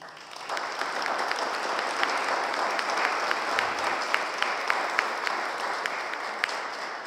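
An audience at a catalogue presentation claps in sustained, even applause, with a few sharper individual claps standing out near the microphone.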